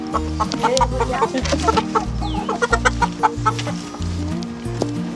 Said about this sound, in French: nos poules sont rendues toutes les 5 dans leur nouveau poulailler.